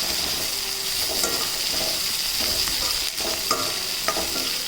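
Oil sizzles steadily in a pan as ingredients fry for bisi bele bath, with a spoon scraping and stirring in irregular strokes close by, and no voices.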